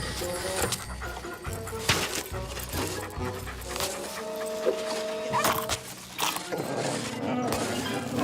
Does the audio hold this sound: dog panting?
yes